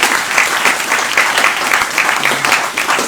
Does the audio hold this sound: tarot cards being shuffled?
no